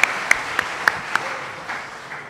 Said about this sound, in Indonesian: kita berikan sekali lagi aplaus buat mereka